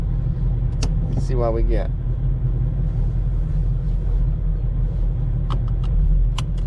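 A Ford car with a misfire fault idles and drives on a short test run, its engine a steady low rumble heard from inside the cabin, with someone speaking briefly over it and a few clicks.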